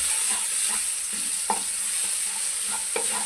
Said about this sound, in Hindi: ये 2 कुटा हुआ लहसुन है ताज़ा। आपने इसको हल्का सा ब्राउन, हल्का सा करना फ्राई।